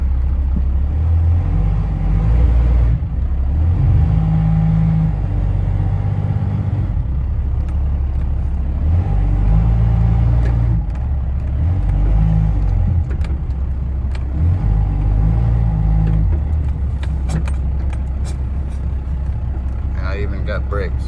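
An abandoned 1992 Dodge D350 truck with a Cummins diesel, not charging, runs and drives, with a heavy low engine rumble that rises and falls in repeated surges, loud and close throughout the clip.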